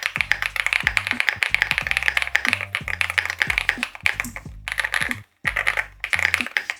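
Rapid clicky keystrokes on a mechanical keyboard, steady typing rhythm with a brief pause near the end, close and fairly loud.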